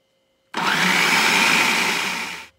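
A food processor blends zucchini for mini muffins in one continuous whirring burst of about two seconds, starting abruptly and stopping at once, loud and close with no talk.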